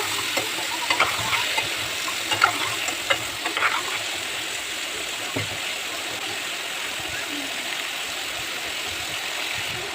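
Papaya and potatoes, cut into large chunks, stirred in a cooking pan with soybean, giving a steady frying sizzle with scattered scraping clicks of the spoon early on, close and alone.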